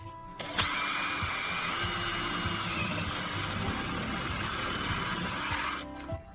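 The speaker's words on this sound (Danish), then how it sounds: "Så borer vi hullerne op til 7 mm." An electric drill bores 7 mm holes, running as a steady, loud, high whine from about half a second in until it cuts off near the end, with no talking.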